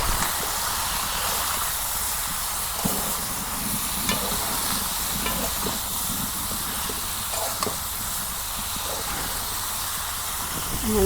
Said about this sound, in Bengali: লবণ মরিচের গুঁড়া ভালো করে নাড়াচাড়া করি